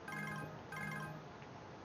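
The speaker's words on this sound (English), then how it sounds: "Paris's phone rings and your heart leaps with hope." A phone ringtone plays two repeated electronic ring bursts close by, each lasting about half a second with a short gap between, then trails off, with no voices.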